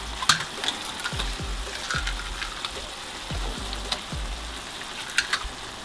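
An egg fries in a pan for breakfast, giving a soft, continuous sizzle broken by a few brief crackles and pops, close by and without speech.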